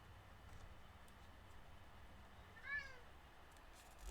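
A cat gives a single short meow, faint and somewhat distant, rising out of a steady low background hum, with nothing else around it.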